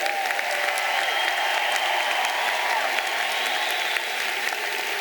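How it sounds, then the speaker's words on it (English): A graduating class at Portland State University's commencement applauds loudly and steadily, a dense crowd roar of clapping sustained throughout with a few faint shouts mixed in. "So give yourselves a big round of applause and make it loud."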